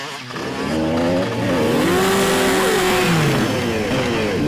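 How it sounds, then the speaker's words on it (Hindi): Loud, close motorcycle engine revs hard during a stunt jump in hilly terrain, the pitch climbing and dipping in rising sweeps over a continuous roar. "कैसे ऊपर से कुदा रहा है बाइक को?"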